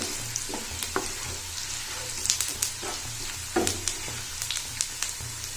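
Crushed red chili sizzles and crackles steadily in oil in a pan, with scattered pops and light scraping of stirring throughout.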